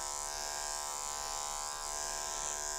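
Electric dog clippers fitted with a snap-on guard comb trim a Shih Tzu, producing a steady, even high-pitched buzz that continues unbroken throughout, close and alone without any talking.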